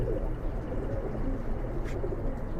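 Pigeons coo in a home pigeon loft, soft low coos overlapping in a continuous murmur with a faint brief rustle partway through.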